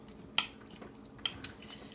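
A fork clinks against a bowl while mixing guacamole with sriracha, giving a few sharp metallic taps over a soft mushy stirring, close up with no talking.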